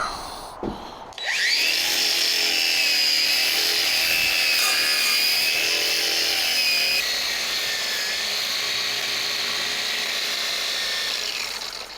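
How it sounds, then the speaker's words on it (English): A grinder runs close and loud in a steady whine after a brief start, keeping on for about ten seconds with slight shifts in pitch and no voices over it. "Grinder's dead. Yay! Turn that off."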